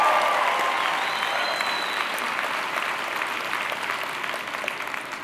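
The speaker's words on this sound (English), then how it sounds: "Let's hear a cheer for all of you." An audience at a SACNAS conference talk cheers and applauds for future PhD graduates, with sustained loud clapping and crowd noise that fades slowly over several seconds.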